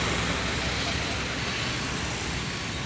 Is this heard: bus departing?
yes